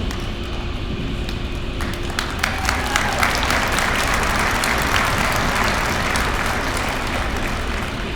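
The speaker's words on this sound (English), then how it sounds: "Please hold your applause until all names have been called." A high school senior breakfast audience claps steadily for students being recognized, a dense, sustained wash of many hands filling the room, loud and continuous with a faint murmur of voices underneath.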